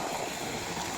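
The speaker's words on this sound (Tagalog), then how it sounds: "Malakas yung tubig niya, Idol, oh." Steady, loud rush of water flowing from a pipe into a fishpond, continuous and noisy without pause.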